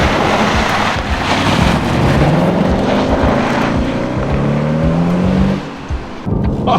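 A Jaguar V6 engine pulling hard on a winding road, a loud, continuous roar with rising and falling engine tones heard from inside the car, with heavy road and wind rush and a brief dip near the end.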